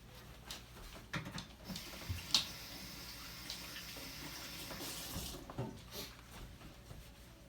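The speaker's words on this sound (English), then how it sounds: "Rinse our hands off." Hands rinsed under a running kitchen tap after mixing sauerkraut in a mason jar: soft, faint water splashing with scattered drips and clinks, quiet and close, no talking.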